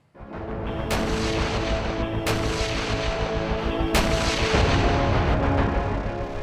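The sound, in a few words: self-propelled artillery cannon firing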